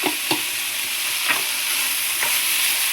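A spatula stirs fried cluster beans and grated coconut in a hot pan. A constant sizzle runs under about four distinct scraping strokes, with no talking.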